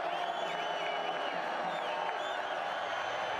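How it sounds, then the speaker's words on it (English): Football crowd rising to its feet at Falcon Stadium during a college game between Colorado State and Air Force, a steady loud roar of cheering and whoops filling the whole stretch without a break. "Crowd rising to their feet at Falcon Stadium."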